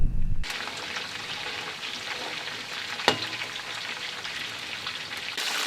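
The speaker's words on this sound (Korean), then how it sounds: "잡은 물고기는 보통 기름에 바짝 튀겨 먹는다" Fish fried crisp in oil on a high Pamir plateau camp: a steady, close crackling sizzle with fine popping spatter throughout, one sharper pop partway through, no voices.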